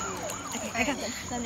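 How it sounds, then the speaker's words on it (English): A wailing police siren rises and falls in the distance, moderately faint, with a steady high insect-like whine running through it. "It's like a siren. It's like a police siren."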